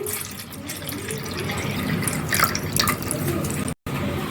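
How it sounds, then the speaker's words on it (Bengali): Cold water poured into a bowl, a steady close-up stream of splashing and trickling liquid with a brief cut near the end. "একটা পাত্রে আমি ঠান্ডা জল দিয়ে দিচ্ছি।"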